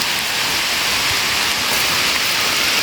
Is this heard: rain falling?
yes